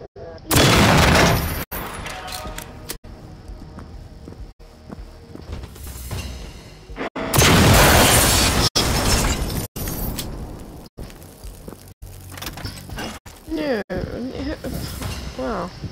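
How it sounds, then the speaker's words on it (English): Explosions in Generation Zero at an island bunker, two big booming bursts, each followed by rumbling and crackling debris, with quieter stretches between and a voice talking over parts. "Explosions going on."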